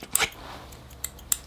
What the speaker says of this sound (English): These are little, I guess they're used for leaf pruning.